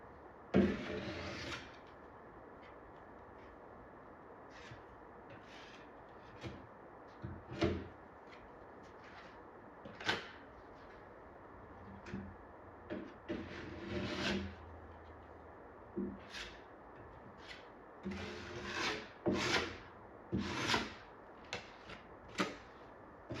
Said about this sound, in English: I'm going to try to sand this stuff by hand rather than using a bunch of fancy sanders